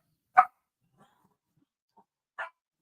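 Dogs give two sharp, separate barks about two seconds apart, with a faint yip or whimper between them and quiet otherwise.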